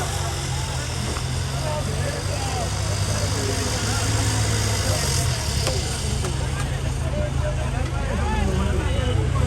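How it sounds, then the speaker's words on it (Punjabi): A tractor engine idles steadily and loudly throughout, a continuous low chugging rumble with a person talking over it. "ਅਗਲਾ ਟਰੈਕਟਰ ਵੀਰੇ ਜਗਦੀਪ ਵਾਲਾ ਹੈਗਾ"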